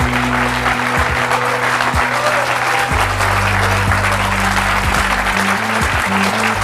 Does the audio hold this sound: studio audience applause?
yes